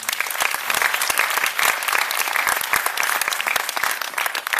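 An audience at a film premiere debate claps steadily and loudly, dense applause filling the room continuously from start to finish.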